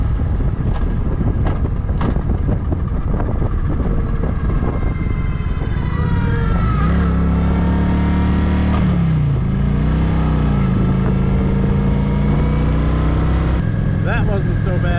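Motorcycle ridden slowly in second gear on the road, the engine droning steadily with pitch rising and falling as it accelerates and eases off, close and loud with wind rumble throughout.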